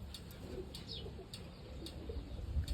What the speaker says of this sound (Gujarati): ને અહીંયા કબૂતરા છે